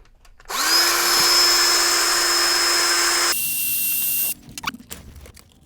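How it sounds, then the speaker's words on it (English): A power drill bores a pilot hole while an arcade cabinet is being mounted, running as a loud, steady high whine for several seconds. The pitch then drops and the drill stops, followed by a few light knocks and clatters. "Now we'll drill the pilot hole."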